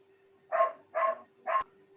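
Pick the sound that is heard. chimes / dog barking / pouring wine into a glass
dog barking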